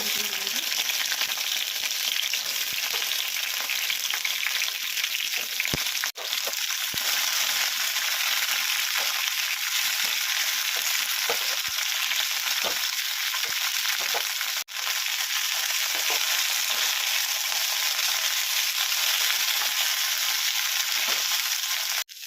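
Red chillies fry in oil in a pan, giving a steady, dense, crackling sizzle that holds at an even level throughout, close and alone with no voices, with a couple of brief clicks.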